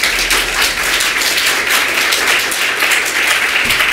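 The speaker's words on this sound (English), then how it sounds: "Give him a warm round of applause" Lecture-hall audience applauding a guest speaker, a steady dense wash of clapping at close range that holds evenly for the full four seconds with no talk over it.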